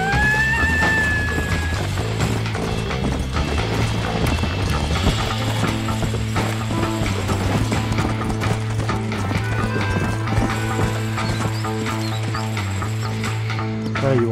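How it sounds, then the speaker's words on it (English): Horse in the video game Red Dead Redemption 2, with steady clip-clop hoofbeats and a whinny near the start over constant layered game music, close and loud throughout. "Oh, relax, horse."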